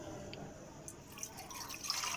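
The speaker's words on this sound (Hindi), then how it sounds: "1 ग्लास पानी ऐड किया" Water is poured into a jug for homemade orange popsicles, giving a faint, steady trickle and splash with a few brighter drips, close and without talk.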